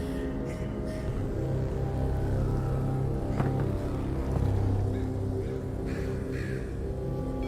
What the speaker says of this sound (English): The bird up there.